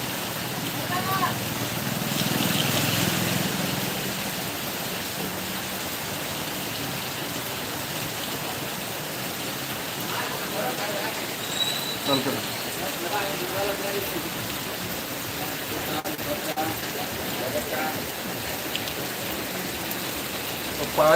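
Heavy rain pours in Jharbandh as a continuous, dense hiss and patter on surfaces, loud and close for the whole stretch, with voices talking underneath.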